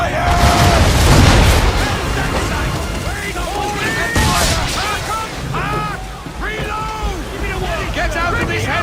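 Ship cannons boom in an Assassin's Creed 3 naval battle, heavy blasts strongest early and again midway, under shouted crew orders and battle chatter.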